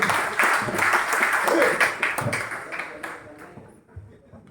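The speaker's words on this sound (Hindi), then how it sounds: "एक बार जोरदार ताली होनी चाहिए।" An audience at a leadership event applauds, dense clapping at moderate loudness that thins out and fades over the last second or so.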